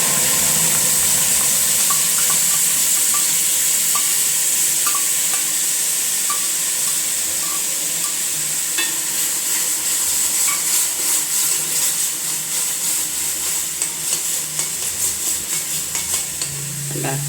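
Mustard seeds and curry leaves crackling and sizzling in hot oil for a tomato chutney, a steady loud frying hiss with scattered popping seeds, close and without talk.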